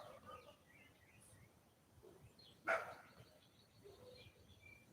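A dog lets out a single sharp bark, faint and a little distant, against a quiet background that also carries scattered bird chirps.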